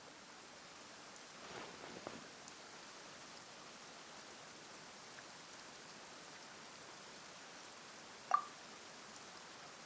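Steady rain falling in a game cutscene, a soft continuous patter with scattered drops and one brief sharper splash near the end, heard alone at low level.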